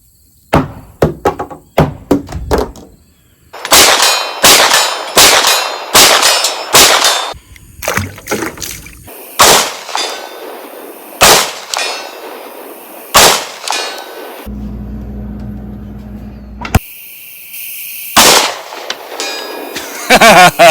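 Rifle rounds striking a steel target at 200 yards at night: a series of sharp, ringing metallic clangs, some in quick pairs and others spaced apart, heard over sparse gaps, with a low rumble and a brighter noise burst near the middle.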